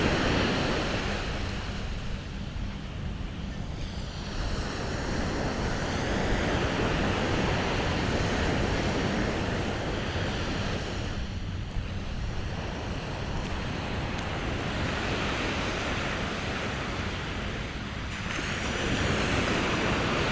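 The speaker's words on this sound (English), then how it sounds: "Nice soft sand, you can hear the waves" Ocean waves wash steadily onto Napatree Beach, Rhode Island, with swells rising and falling every several seconds under a constant roar of surf and some wind.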